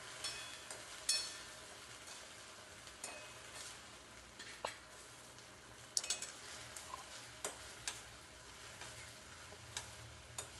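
Beetroot manchurian balls are stirred through sauce in a pan, giving soft scattered scrapes and clinks of a spoon against the pan with occasional louder knocks over a faint background, no talking.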